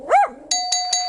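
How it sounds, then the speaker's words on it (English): In the You Don't Know Jack video game, a dog gives a single sharp bark, then a doorbell rings three bright chimes in quick succession, loud and close, with no talking. "that bell is making our contestants think someone's at the door"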